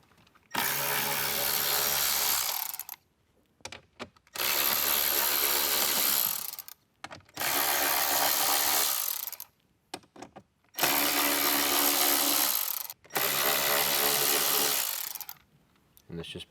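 A power drill removes five screws from the screen of a 2024-or-later Jeep Wrangler JL, five loud, close whirring runs of roughly two seconds each, separated by short gaps with clicks and faint handling noise.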